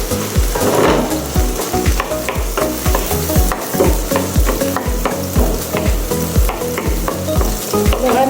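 Chopped onion frying in a pan for chicken kofta, a loud close sizzle broken by a steady rhythm of scraping stirs with a utensil, no talk.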